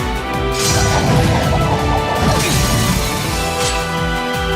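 A heavy crash and smash from the Shatter attack in Trails of Cold Steel II, a dense loud burst of impact and debris that rolls on for several seconds without pause.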